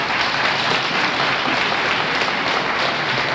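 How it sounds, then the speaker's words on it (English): A lecture audience bursts into loud, sustained applause, a thick continuous roar of many hands clapping at once with no speech over it. "Please save your applause till I read them all."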